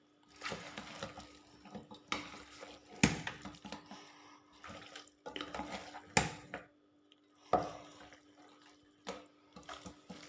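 Pieces of washed duck meat for a traditional Kerala-style curry are dropped into a pot and stirred, giving irregular wet clatters and sharp metallic knocks against the pot, fairly faint and close.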